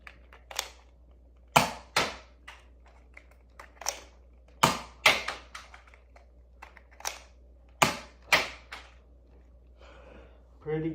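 A Zuru X-Shot MK3 toy blaster fires white foam darts, a series of sharp, loud snapping shots spaced a second or two apart over a quiet room hum, with slide-priming clacks between shots.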